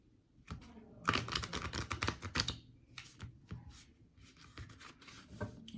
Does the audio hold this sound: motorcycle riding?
no